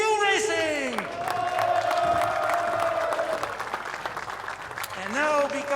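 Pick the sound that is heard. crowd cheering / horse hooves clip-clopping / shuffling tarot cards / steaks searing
crowd cheering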